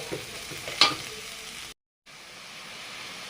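Ground coriander, cumin, salt, turmeric, dried chili powder and black pepper fry in hot oil for a koi fish curry, giving a steady hiss with a sharp clink, then a brief silent gap before the sizzle resumes.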